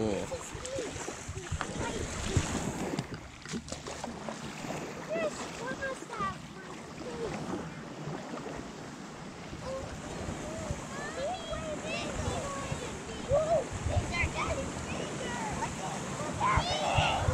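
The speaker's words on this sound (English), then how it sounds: "look at those waves coming" Waves rolling on Torch Lake in Michigan, a continuous wash and splash of water with wind buffeting the microphone, heard under people talking throughout.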